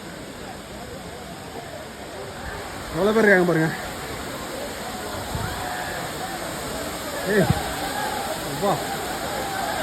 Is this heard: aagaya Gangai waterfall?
yes